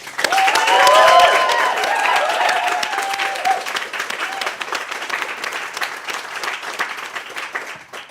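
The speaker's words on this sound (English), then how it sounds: "So can we get a massive round of applause for that, please?" An audience at a women entrepreneurs' showcase gives a long, loud round of applause, with whoops over the clapping early on and a steady clatter of hands fading gradually toward the end.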